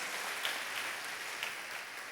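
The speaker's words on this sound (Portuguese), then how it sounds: "Agora eu quero uma salva de palmas." Audience applause fills a church gathering during a bishop's sermon, a steady dense patter of clapping at moderate level throughout, with no voices over it.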